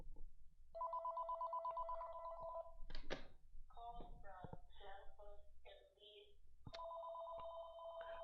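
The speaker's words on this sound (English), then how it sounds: "Then I'm gonna have to let that phone ring." A telephone rings in repeated electronic bursts, one near the start and another near the end, with speech and clicks in between; a man is trading on the market nearby.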